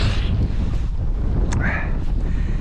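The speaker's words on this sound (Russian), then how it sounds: "поднялся ураганный ветер, северный, северяк," A strong northerly wind blows hard against the microphone in snowy weather, making a steady loud roaring rumble with gusty buffeting throughout.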